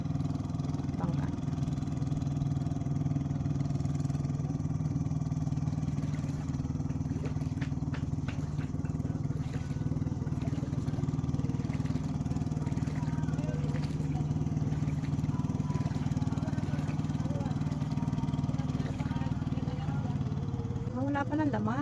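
A steady boat engine drones close and continuous as a small boat tows a floating cottage across calm sea near mangroves, with someone talking over the motor throughout.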